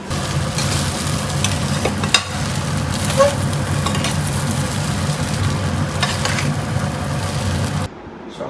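Chow mein being stir-fried with fried peanuts, a steady close sizzle and scraping stir running throughout with a couple of sharp clinks, cutting off abruptly near the end.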